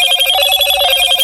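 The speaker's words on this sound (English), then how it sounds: "So lucky I had a phone call." A phone ringing with an incoming call, heard as a loud, close, steady electronic ringtone with bright sustained tones and no talk over it.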